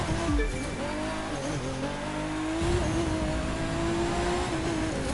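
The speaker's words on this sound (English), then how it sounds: "The Taxi GT500 race car is going right on in" A Taxi GT500 race car in The Crew 2, its engine loud and close as it revs and shifts through gears, with a sustained roar, a brief tire squeal and a rising pitch.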